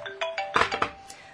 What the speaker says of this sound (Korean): 뭐야, 전화가 오네.